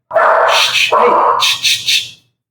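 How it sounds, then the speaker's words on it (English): Dogs bark indoors in loud, close bursts, several sharp barks and yips following one another over about two seconds, with no talk over them. "My dogs are freaking out here."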